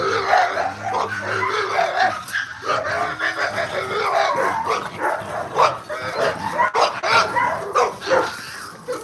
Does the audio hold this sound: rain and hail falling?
no